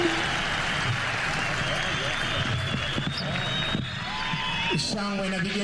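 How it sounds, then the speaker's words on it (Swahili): Dense, sustained applause and cheering from a large crowd for President Uhuru Kenyatta at his farewell military parade at Ulinzi grounds, continuous clapping with some whistles and shouts, while a voice talks over it. "Shangwe na vigelegele kwake Mheshimiwa Rais, makofi mazuri"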